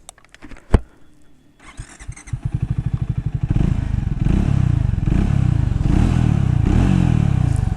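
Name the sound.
Triumph Speed T4 motorcycle exhaust sound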